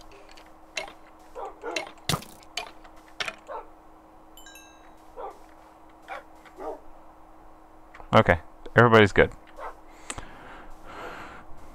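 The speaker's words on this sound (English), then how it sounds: "I like it when they bark in unison to let me know." Several dogs in the Adventure Time video game bark together in a short burst near the end, after scattered yips and game sounds, with a person talking over the earlier part.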